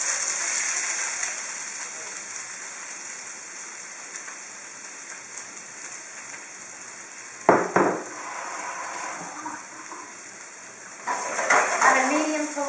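Onions hit hot oil in a pan over a medium-low flame, producing a soft, constant sizzling hiss beneath a steady background hum. Louder bursts of clatter and sizzling come around the middle and again toward the end.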